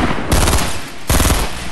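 A submachine gun fires in Fortnite, two loud close rapid bursts of automatic shots separated by a short pause.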